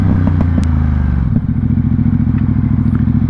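A Ducati Diavel 1260 motorcycle rumbles close and loud under a rider, its engine note steady with a brief dip midway, plus some clatter and wind.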